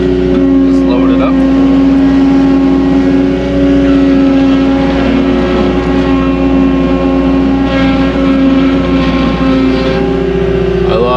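A vertical lift loader runs steadily while loading gravel, its diesel engine droning loud and close with a constant hum and faint clanks, continuous throughout without pauses.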